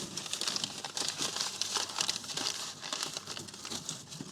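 Paper is crumpled and pressed around a bottle, giving continuous close crinkling and rustling with no talking, outdoors in Brazil while a charcoal starter is being built.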